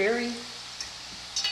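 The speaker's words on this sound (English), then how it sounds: "You have to turn them because they fry very fast." Polish dough pastries fry fast in hot fat, a steady close sizzle running through the whole moment, with brief higher crackles, while a voice speaks briefly at the start.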